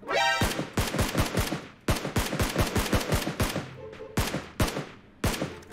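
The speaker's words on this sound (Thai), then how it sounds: "ผมว่าเมื่อกี้เสียงปืนยังมีอยู่เลย" Rapid bursts of gunfire in a PUBG Mobile match, with repeated sharp shots in quick volleys and brief gaps between bursts, loud and close with no talking.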